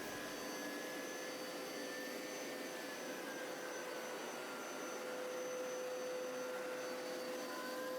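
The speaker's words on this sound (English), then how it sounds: "it starts to pick up water immediately, and you can see it there sucking up through the head of the vacuum" A Hoover Powerscrub carpet cleaner runs continuously, sucking up water with a steady whooshing roar and high whine, a constant sucking drone that never lets up.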